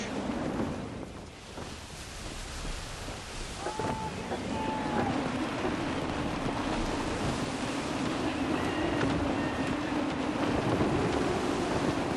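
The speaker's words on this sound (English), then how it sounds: "Wind looks to be shifting. Stay alert, Connor. Gusty winds can be difficult to manage." Gusty wind blows at sea in Assassin's Creed 3, a steady broad rush with water and boat noise that slowly builds in strength, heard alone without voices.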